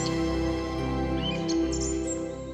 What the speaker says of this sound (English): They announce the occupation of their territory to the world with a characteristic call of spring, the clangor.